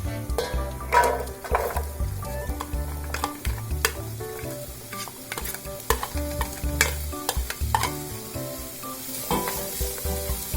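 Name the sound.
onion frying in oil in a pot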